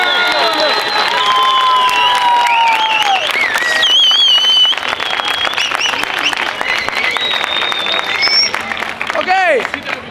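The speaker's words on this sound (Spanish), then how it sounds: "¡Fuerte la aplauso!" Crowd applause and cheering at a tournament final, scattered clapping under loud whoops and excited shouts, with voices calling out over the claps throughout.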